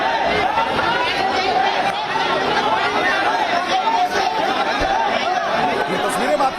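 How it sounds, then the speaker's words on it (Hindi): A crowd gathered in a lane outside a dead man's house, a dense murmur of many voices and chatter with occasional laughs blending into a continuous hubbub nearby. "सूर्या का जहां घर था वहां चारों तरफ भीड़ और भीड़ ही नजर आई"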